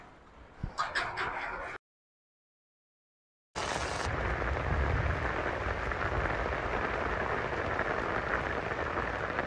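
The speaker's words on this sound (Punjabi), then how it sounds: "ਮੀਂਹ ਦੇਖੋ ਕਿੱਡਾ ਕਿੱਡਾ ਮੋਟਾ ਆ ਗਿਆ" A dense, steady roar of heavy rain pours down continuously after a brief silent gap, preceded by a few sharp clatters.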